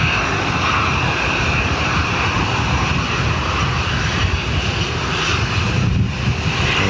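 An Aer Lingus airliner taking off at Dublin Airport, its jet engines producing a loud sustained roar with a steady whine that holds throughout, heard from outdoors.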